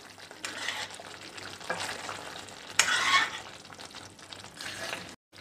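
A spoon stirs paneer korma gravy enriched with milk cream in a pan, a soft, continuous scraping and gentle sizzle with a brief louder clatter midway, no voices.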